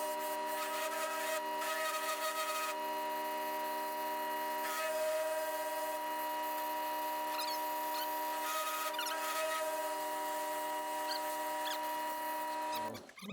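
A lathe plunge-cuts a part 320 thousandths deep, giving a steady whining, tonal machining hum with a few faint scrapes throughout, then cutting out abruptly at the end.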